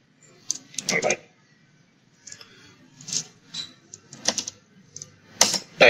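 Short bursts of clicky keystrokes on a computer keyboard, typed in quick clusters separated by pauses, close and fairly crisp against a quiet background.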